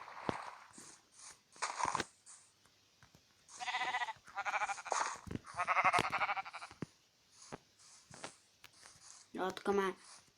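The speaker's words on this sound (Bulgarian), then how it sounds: "Овца." Sheep bleat in several close, wavering calls at varied loudness, with quieter pauses and crunchy rustles between them.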